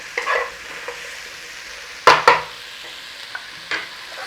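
Brussels sprouts, chestnuts and pancetta pan-frying as they are stirred and turned, with a few short scraping, clattering bursts over a soft sizzle and no talk.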